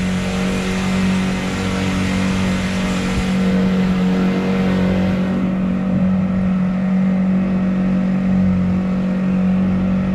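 Honda GX50-powered outboard motor pushing a Nucanoe Pursuit boat at cruising speed, a loud, steady small-engine drone with a constant buzzing tone that holds without pause.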